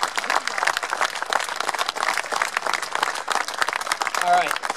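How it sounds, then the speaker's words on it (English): A crowd at a Memorial Day event applauds police and firemen with dense, steady clapping throughout, and a voice cuts in briefly near the end. "please, in a round of applause for our police and all of our firemen who serve us every day"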